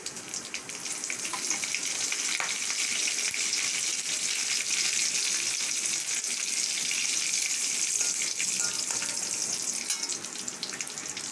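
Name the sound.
vadagam and cumin frying in hot oil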